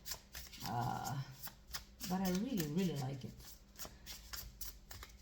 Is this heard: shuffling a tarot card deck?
yes